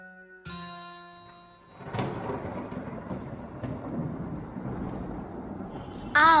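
A stage play's thunder-and-rain sound effect: a sharp opening crack, then a deep rolling rumble that gives way to a sustained, even wash of rain, moderately loud, with a brief burst of sound at the very end.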